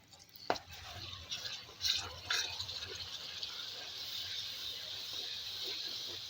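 Water is poured in a small splash into red curry masala in a pan for a pumpkin and potato dish, a brief gush and trickle near the start over quiet sizzling and stirring.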